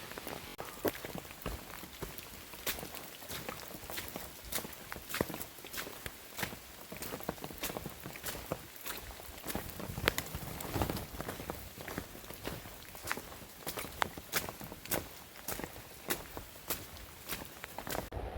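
Footsteps of a hiker walking through rain under a small backpacking umbrella on a trail, a steady run of close, crisp steps with patter and splashes over a constant wet hiss.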